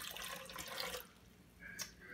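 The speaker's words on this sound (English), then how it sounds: "And then you add 1 quart of water" Water pours into a cooking pot already holding about four quarts of sweet corn kernels, a short splashing rush for about a second that drops away, then a brief clink, with no one speaking.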